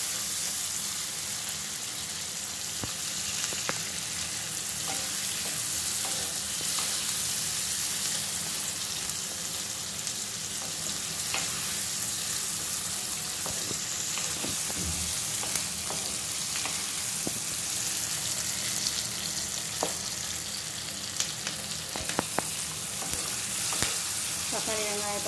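Tomato and onion sauté in a pan for Brahmi leaf kulambu. A steady frying sizzle runs throughout with repeated stirring scrapes and clicks from a spoon against the pan.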